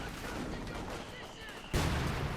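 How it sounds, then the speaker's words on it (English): Puma armoured car firing in the Company of Heroes 2 strategy game, with a loud shot bursting in near the end over steady battlefield rumble while a commentator talks throughout. "They're Puma moving up there, firing a few shots at the riflemen."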